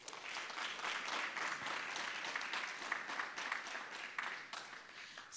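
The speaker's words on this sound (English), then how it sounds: "one more round of applause for us" Continuous applause fills a room at a nonprofit friendraiser event, a warm, even wash of many hands clapping, steady and fairly soft throughout.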